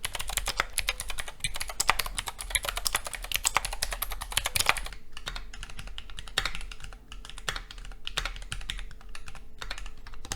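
A Keychron Q1 mechanical keyboard sits on a full desk mat and is typed on steadily and quickly. The keystrokes come as a dense, even clatter of close, soft-bottomed clicks, with no voices.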